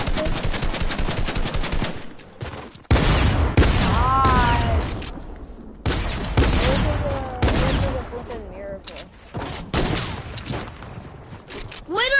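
Rapid bursts of gunfire in the battle royale game Fortnite, loud and close, with repeated strings of shots broken by short pauses and game effects, and voices talking at times.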